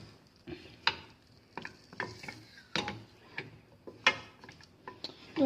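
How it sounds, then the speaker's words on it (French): A wooden spatula stirs melting chocolate in a pan over the heat, giving soft irregular scrapes and light knocks against the pan, close and quiet with no talk. "Et on mélange avec la spatule en bois."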